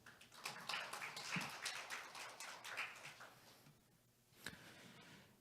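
An audience at a tourism workshop claps to welcome a speaker, a fairly faint spatter of many hands for about four seconds, pausing, then a brief final clap.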